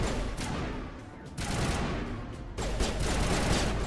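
Bursts of gunfire from the video game Mass Effect 1, with rapid crackling shots in clustered volleys at moderate loudness and no voices over them.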